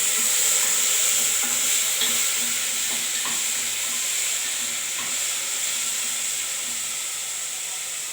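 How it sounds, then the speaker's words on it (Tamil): Steady sizzling of tomatoes sautéing in a hot pan, a constant bright hiss with faint occasional stirring clicks, close and continuous throughout. "இப்போ தக்காளி போட்டு வதக்குவோம்"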